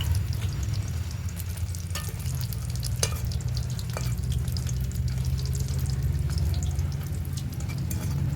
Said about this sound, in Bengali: ভালো করে লাল লাল করে ভাজবো।